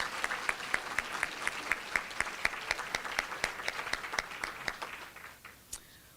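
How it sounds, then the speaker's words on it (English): Audience applause at the 2021 Sunrise Pinnacle Awards ceremony, a room full of steady clapping with crisp individual claps standing out, fading away near the end. "So huge round of applause for our partners,"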